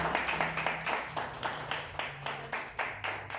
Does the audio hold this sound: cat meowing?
no